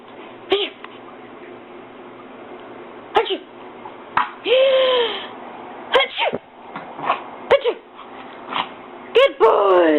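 A dog sneezes repeatedly, sharp snorting bursts spread across the clip with short gaps between them, close to the microphone, while a person speaks in between.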